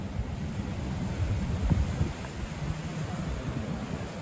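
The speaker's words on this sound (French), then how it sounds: "On entend le vent, on entend les vagues aujourd'hui." Steady wind noise buffets the microphone while ocean surf rumbles low underneath on a Cuban coast, a continuous roar with no voices.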